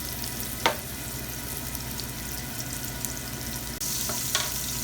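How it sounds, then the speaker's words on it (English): Continuous crackling sizzle of onion frying in hot olive oil, close and steady, with a couple of sharp pops and a faint clink partway through. "can you hear that beautiful sizzle?"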